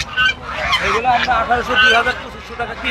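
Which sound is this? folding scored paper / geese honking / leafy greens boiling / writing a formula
geese honking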